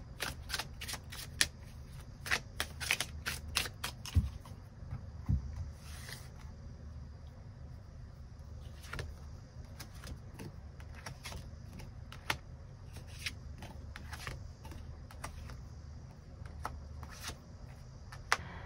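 Tarot cards are shuffled and drawn in a reading, giving dry papery riffles and soft flicks in bursts with scattered sharp snaps of cards landing, close and fairly quiet, with no talking.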